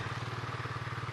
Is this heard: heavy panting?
no